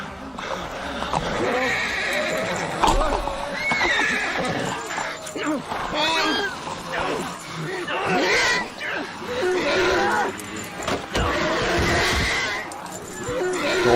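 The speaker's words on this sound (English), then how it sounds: "They did not like having a horse devoured on television." A horse whinnies and neighs repeatedly in a televised horror scene in which the horse is devoured, with hooves clopping, shrill cries and overlapping voices and chatter throughout.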